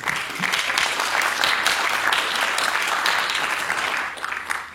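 Audience applause at the AgroParisTech alumni general assembly on the Palaiseau campus, a dense, steady wash of clapping from a large room that carries on without a break and tapers slightly near the end.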